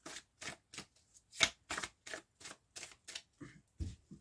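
Tarot cards are shuffled and dealt in crisp, evenly spaced bursts of riffling and slapping, about a dozen in quick succession, close and fairly quiet, with no talking.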